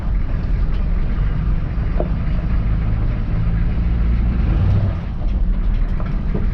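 A retired K5 military Blazer (CUCV) drives along with a loud, steady engine rumble and broadband road and wind roar that hold constant throughout, heard up close from inside the vehicle with no talking.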